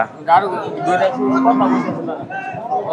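A cow moos clearly in a long low call amid a busy cattle market in Bangladesh, with people chattering and calling nearby.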